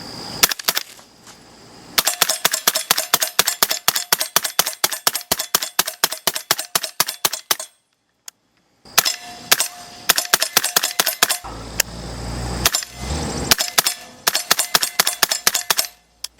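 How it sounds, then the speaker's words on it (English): Suppressed subsonic gunshots through a HiTec Arms SD suppressor fired into dirt, dozens of quick sharp cracks in rapid bursts with a few short pauses, loud and close with no talk. "I'm going to put the first few shots into the dirt so we can hear, make sure it doesn't go supersonic, and get the full sound of the shot"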